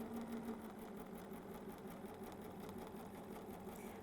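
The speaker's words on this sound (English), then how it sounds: "And I am going to stitch around that circle again." A BERNINA domestic sewing machine stitches around a fabric circle for a quilting motif, a faint, steady, even mechanical hum with fine rapid needle pulses running continuously.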